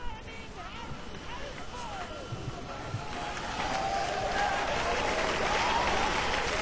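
Large crowd at an evangelistic mission meeting in Africa breaking into applause, a dense distant patter that swells louder through the second half, with faint crowd voices mixed in.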